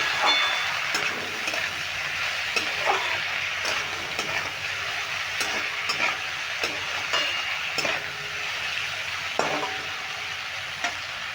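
Kudri (ivy gourd) posto being stirred with salt and turmeric in a pan: steady sizzling and frying hiss with repeated scraping strokes of a spatula, close and continuous, no voices.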